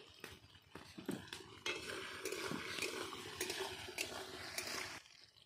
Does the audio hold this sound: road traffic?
no